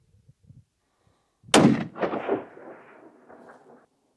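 A single loud rifle shot cracks out during an aoudad ram hunt in Texas hill country, followed by a rolling echo that fades over about two seconds; faint sounds precede it.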